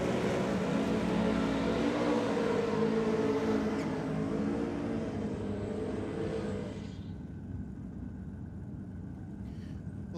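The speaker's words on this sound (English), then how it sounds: "he hasn't lost the ability to do a burnout" A Honda drag car does a burnout at a drag racing night, its engine roaring loudly and continuously for several seconds before the noise cuts down to a quieter, duller idle-like rumble.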